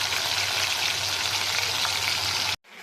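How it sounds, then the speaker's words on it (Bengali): Prawns fry in hot oil in a wok, a dense steady sizzle close and loud for a few seconds before cutting off abruptly. "আমার কড়াইয়ের তেল গরম হয়ে গেছে, আমি একটা একটা করে চিংড়ি মাছগুলারে কড়াইয়ে ভাইজা নিব।"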